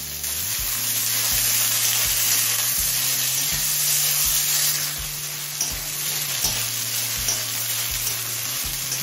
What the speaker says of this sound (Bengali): এখন মিডিয়াম ফ্লেমে পেঁয়াজটা হালকা লাল করে ভেজে নেব।